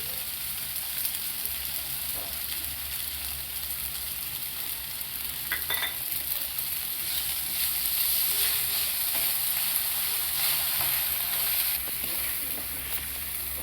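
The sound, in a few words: chopped eggplant frying in a pan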